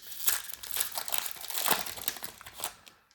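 Crinkling and crumpling of a Lord of the Rings card booster pack wrapper being torn open, close and continuous for a few seconds with uneven bursts of crackle.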